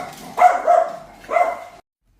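Indoor dog giving two loud barks about a second apart, close and clear, followed by silence.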